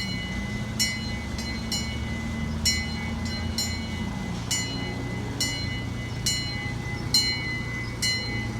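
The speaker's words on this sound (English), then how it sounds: "I drive the train at the zoo all day." The Titus Express zoo train at Dickerson Park Zoo in Springfield, Missouri runs along its tracks with a steady low rumble, while sharp metallic clicks and clacks from the wheels repeat at irregular intervals, fairly close.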